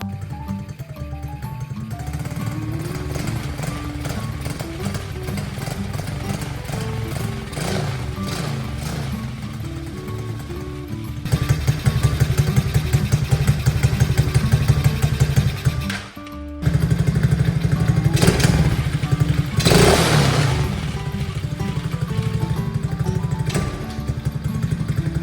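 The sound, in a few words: Chinese four-wheeler ATV engine idling and revving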